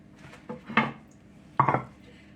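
Dishes and a pan clatter as a homemade meatloaf dinner is plated in a home kitchen, two short clinks and knocks, close and moderately loud, with a quiet gap between them.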